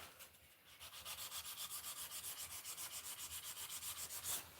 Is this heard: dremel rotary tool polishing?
yes